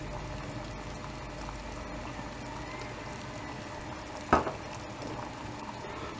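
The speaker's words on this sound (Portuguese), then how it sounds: "vamos começar por colocar aqui o azeite" Olive oil poured into a pan on a lit stove, a soft steady trickle with faint sizzle, a brief clink of the bottle or pan partway through, close and quiet with no talk.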